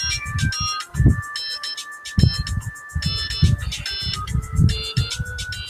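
A phone ringtone plays a repeating bright electronic melody in short, evenly spaced bursts, with a few soft low thumps and rustles underneath.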